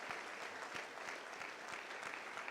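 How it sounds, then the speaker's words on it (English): A crowd applauding steadily, dense clapping at moderate volume throughout with no voices. "So, one more round of applause for these fantastic people."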